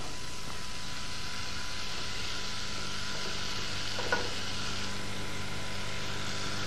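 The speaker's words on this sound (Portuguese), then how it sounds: "o azeite, e a cebola picada, deixando refogar." Chopped onion sautés in olive oil for an arroz à alentejana, giving a steady, close hiss of frying with a few faint stirring clicks and no one speaking.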